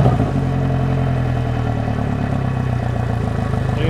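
An outboard boat motor, just serviced after fuel and water repairs, cranks and settles into a steady, loud, close idle with a rhythmic mechanical clatter, no voices over it.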